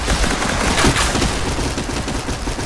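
Rapid gunfire from a first-person shooter game, loud and continuous with dense overlapping shots and no voices.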